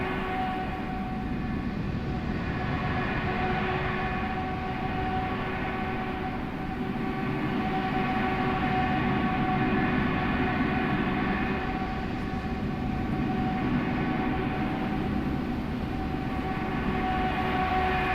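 An A320 airliner taking off in Microsoft Flight Simulator 2024, heard as a steady, loud, continuous jet engine roar with a constant tonal hum that holds for the whole stretch, with no talking.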